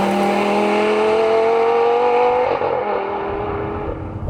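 A Lamborghini Gallardo LP550-2 Balboni's mid-mounted 5-litre V10 drives past, loud and close, its engine note sweeping steadily downward as it pulls away, with a rich, raw tone throughout.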